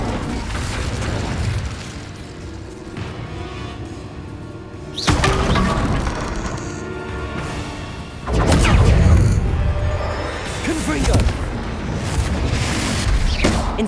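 Spell impacts from Incendio and Bombarda in Hogwarts Legacy, set in a haunted Hogsmeade shop: two loud booming blasts with crackling bursts ring out over a steady rumbling game background, with faint mechanical clatter between them.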